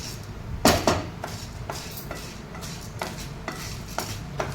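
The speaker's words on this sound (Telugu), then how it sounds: "నల్ల మినపప్పుతోనే ఉంటుంది అట్లా దోరగా వేయించుకోవాలి" Black urad dal being stirred while roasting in a pan, metal spoon scraping and clinking against the pan in irregular strokes, with a couple of sharper knocks early on and softer scrapes after.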